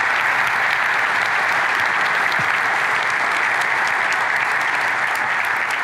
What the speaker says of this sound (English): Let's give a great round of applause for KDAP.